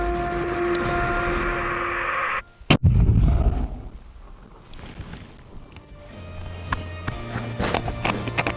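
Rifle shot fired at a moose over a long distance while hunting in Newfoundland, a single sharp loud crack followed by a rumbling echo that fades out, with faint rustling and movement afterward.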